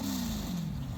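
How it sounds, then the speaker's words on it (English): A cross-plane crank V8 engine with a tuned exhaust rumbles steadily at close range, holding a low, even drone for a moment with a slight dip in pitch. "there's nothing better than the sound of a cross-plane crank V8 and a well-done exhaust."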